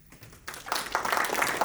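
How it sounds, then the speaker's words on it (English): An audience at a tech event begins clapping after a short quiet moment, and the applause swells into steady, moderately loud clapping that continues to the end. "Can I have a round of applause, please?"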